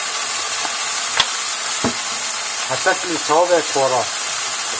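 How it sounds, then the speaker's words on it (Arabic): Tomatoes sizzle steadily in a pan while being stirred for an Egyptian-style ful dish, a constant hiss with a few soft utensil clinks, and someone talks over it. "نقلب يا جميل علشان الطماطم تدبل بتاعتنا"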